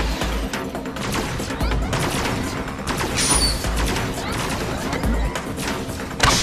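A space laser blasts the core in the video game Agents of Mayhem: dense, continuous gunfire-like bursts, crashes and booms roar loudly and close for the whole stretch, with some voices mixed into the chaos.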